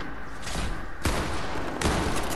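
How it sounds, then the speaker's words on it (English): Gunfire in the video game Volcano Wars: loud, dense bursts of rapid shooting that start abruptly in two or three waves, with a sharp onset near the middle and another near the end. "What was that shooting?"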